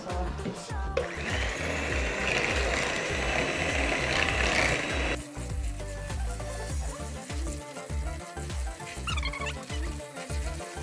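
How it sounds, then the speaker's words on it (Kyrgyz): An electric mixer whirs steadily as it whips 300 grams of cold cream, its motor grinding loudly for several seconds before the tone shifts to a choppier, uneven churning. "Миксер иштетебиз"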